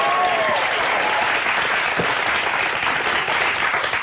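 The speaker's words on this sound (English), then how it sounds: "even the people way in the back are clapping" An audience at a talk show claps continuously, a full, steady wash of applause with faint voices and a brief cheer mixed in.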